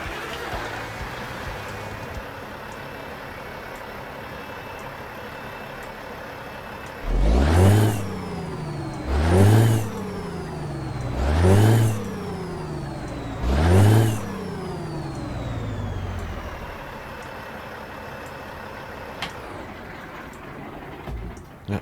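A Ford Aeromax truck engine in American Truck Simulator, heard from outside, idles with a steady rumble, then revs four times in quick even bursts before settling back to idle.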